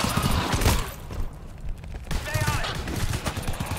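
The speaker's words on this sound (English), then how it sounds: "I'm being shot!" Rapid bursts of gunfire ring out during a firefight in the video game GTFO, several loud overlapping shots and volleys, with voices talking and grunting over them.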